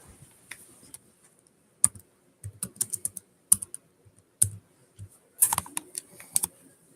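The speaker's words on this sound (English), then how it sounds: "Here, I'll type in the chat." Scattered clicks and clatters come from a computer keyboard as someone types a message in bursts with pauses, close and crisp in a quiet room.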